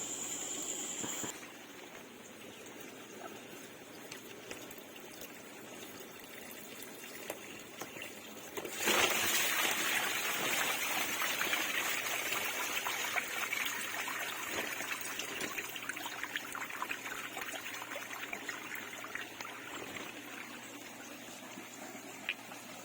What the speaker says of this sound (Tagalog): Kung makikita nyo po, madumi na po ang ating filter. And ngayon po ay i-drain ko na po ito.